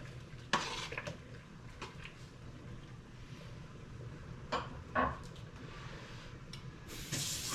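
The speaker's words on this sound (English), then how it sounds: "So I'm going to put that in there and give it a little stir." Ricotta gnocchi stirred in a pot, a few soft clinks and scrapes scattered over a steady low kitchen hum, fairly quiet with no voices.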